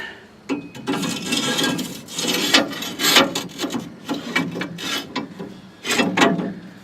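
A part slides back into place on a 1965 Ford Econoline during lowering work, with close, steady scraping, rattling and ratchet-like clicks broken by several sharper metallic clunks, and no talking.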